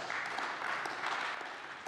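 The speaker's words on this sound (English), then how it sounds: "A little applause, please." Faint, distant audience applause forms a steady wash of soft clapping throughout the short stretch, low in level and without distinct individual claps.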